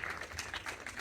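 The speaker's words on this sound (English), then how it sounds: "Can we get a round of applause for our producer, please?" Audience at a movie Q&A applauding the producer, a quiet, steady patter of clapping from a modest crowd throughout.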